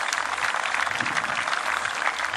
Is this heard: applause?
yes